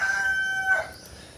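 A rooster crows among chickens on a farm in the Philippines, a single fairly close, clear cock-a-doodle-doo call lasting under a second and trailing off, with no talk.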